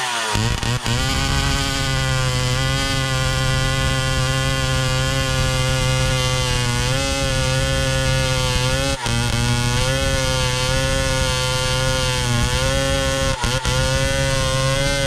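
A small Husqvarna 44 chainsaw engine idles steadily and loudly up close, a continuous buzzing drone with slight wavering and a couple of brief stutters.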